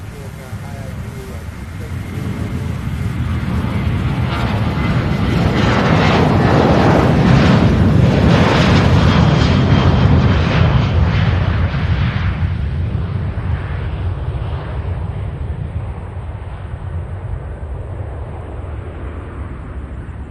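A 21-year-old Boeing 737-800 airliner at Louisville International Airport, a powerful jet roar that swells to a loud peak as it passes and then slowly fades into a distant rumble, with a voice talking over it.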